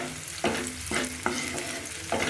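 Cinnamon frying in a pan for a chicken and ash gourd curry, with a steady sizzle broken by several sharp stirring scrapes at a regular rhythm, close and fairly loud, with no talk.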